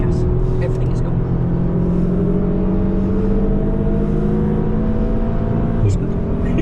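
A car is driven hard on the Nürburgring track, its engine droning loud and steady as it pulls under acceleration, with a voice talking over the noise throughout.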